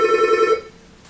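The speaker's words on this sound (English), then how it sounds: "I didn't even know we had a phone in here" A telephone in a classroom gives one short electronic ring that cuts off after about half a second, leaving quiet room noise.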